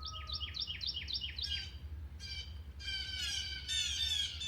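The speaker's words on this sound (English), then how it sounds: "Those are blue jays." Blue jays call outdoors in a quiet rural setting: a rapid series of harsh repeated squawks, then a pause and more loud raspy calls, over a low steady background hum.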